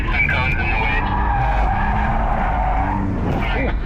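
Loud, continuous tire squeal from a car drifting around a cone course, sustained wailing tones over steady engine roar for the whole stretch, with people talking faintly underneath.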